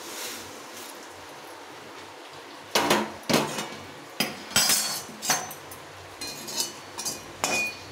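Puffed rice (muri) poured into a pan in a home kitchen, a series of rattling, clinking bursts after a quiet start, several short pours in irregular rhythm.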